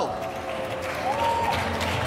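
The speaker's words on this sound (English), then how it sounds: "Make some noise, clap, let's go." A conference audience at a crypto expo in Los Angeles claps and cheers, a wash of applause that holds steady throughout while voices carry through the crowd noise.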